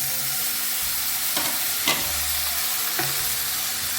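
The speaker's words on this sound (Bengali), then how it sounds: "এবার ব্রোকলিটা দিয়ে দেবো।" Broccoli stir-frying in a pan with garlic, a continuous close sizzle broken by a few sharp clacks and scrapes of a spatula, no talking.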